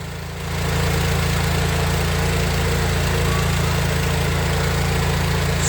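Thunderstorm generator engine running with its bubbler feed opened, a loud steady idling drone with a strong low hum that swells up in the first half second and then holds constant.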